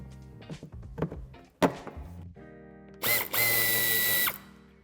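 A power drill backs a screw out of the wheel arch of a 2021 Renault Arkana during a tow hitch fitting. A few knocks and taps come first, then a close, loud whirring burst that lasts just over a second.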